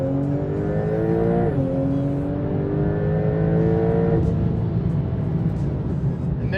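A Porsche 911 Turbo S (992.1) in Sport Plus mode pulls hard from inside the cabin, engine note climbing steadily through two rising sweeps with a shift in between, loud and continuous.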